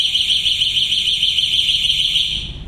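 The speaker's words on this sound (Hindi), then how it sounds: "एंटी थेफ्ट अलार्म कुछ हुए तो गाड़ी को तो बच जाएगी अपने आप" Anti-theft alarm on a Fidato Future 2020 electric scooter gives a loud, steady high-pitched electronic tone that holds continuously, then tapers slightly at the end, with no talking.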